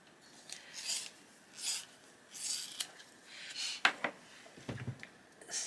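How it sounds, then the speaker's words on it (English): A colouring pencil is sharpened close up, producing soft rhythmic scraping rasps in short strokes about every half-second to second, faint and with no voices. "So I'm going to sharpen."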